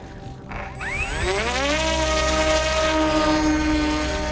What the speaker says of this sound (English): The spy drone is off to film rebel positions in areas they control.